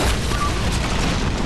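A tank explosion in the video game Uncharted 2, a loud, dense, rumbling boom that fills the whole moment without a break.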